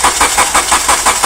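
Car engine cranking on the starter during a starter voltage drop test, with a steady rhythmic chug repeating about every fifth of a second, loud and close, with no talk.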